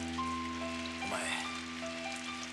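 Steady rain falls outdoors with a constant soft patter on surfaces, under a faint tonal background hum, with no voices.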